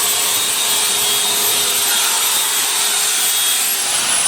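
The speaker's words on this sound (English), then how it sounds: "he's refacing all the tips on these crystals" Loud, steady grinding hiss from a wheel refacing the tips of quartz crystal points in a Donghai, China workshop, continuous and unbroken throughout with no voices.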